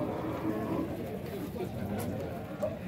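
Cattle at a busy livestock fair in Dois Riachos, Alagoas, with low lowing and crowd chatter blending into a steady murmur.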